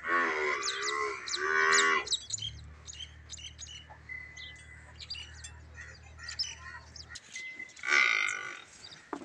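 A Nili buffalo cow lets out a loud, drawn-out low moo, followed by bird chirps and quieter farmyard sounds, then a second bellow near the end.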